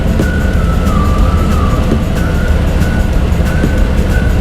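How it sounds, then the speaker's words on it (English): Road traffic passing by near Takakkaw Falls in British Columbia, a loud continuous roar of vehicles with a faint siren-like tone wavering through it. "can't believe the traffic"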